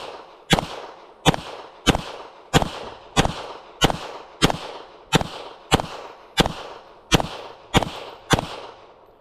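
Twelve evenly spaced pistol shots from a Beretta 92X Performance, sharp loud reports about every three-quarters of a second, close by with no talk.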